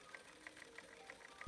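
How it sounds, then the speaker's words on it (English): Sewing machine zigzag-stitching elastic onto high-waisted silk briefs, a quiet steady run with regular bright stitch ticks repeating about three times a second, heard alone. "I sew the elastic starting at the back seam and sewing it on the right side as before, while evenly stretching it out."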